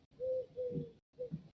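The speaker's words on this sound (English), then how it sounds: "That pigeon's back again, isn't it?" A pigeon coos in three soft, rounded phrases with brief pauses between them, close by and alone with no voices.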